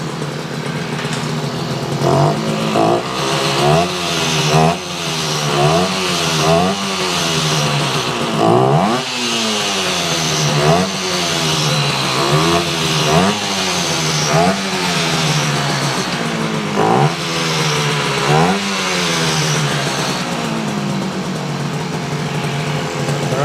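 A 1968 Yamaha YAS1C 125 twin motorcycle engine runs loudly up close, revved repeatedly in rising and falling sweeps over a steady idle, with brief dips between throttle blips.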